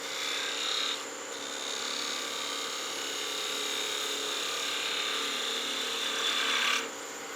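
A wood lathe spins a small Christmas gnome ornament while a spindle gouge refines its curve, giving a steady, hissy scraping whir that continues unbroken and moderately quiet throughout.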